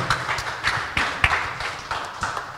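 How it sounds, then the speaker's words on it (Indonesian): Audience applause at a Kalimantan Utara police and election-commission event welcoming the regional police public-relations chief, with scattered claps rising in a few brief bursts over a moderate, steady patter. "Boleh tepuk tangan buat Pak Budi"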